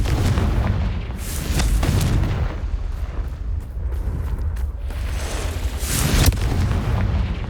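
Confringo spell explosions in the video game Hogwarts Legacy, heavy booming blasts rolling into one another with bright bursts at about one and six seconds, loud and continuous.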